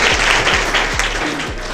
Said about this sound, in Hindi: तो इनके लिए एक जोरदार तालियां बजाइए।